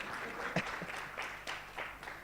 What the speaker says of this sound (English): Keep clapping, she might give you that gift.